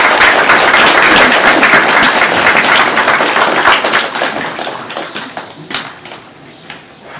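Crowd applause at a patriotic ceremony in Pont-Gaudron, a dense burst of many hands clapping that stays loud and steady for about four seconds, then thins into scattered, fading claps.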